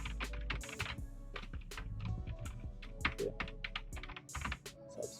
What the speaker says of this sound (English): You can type the things you want.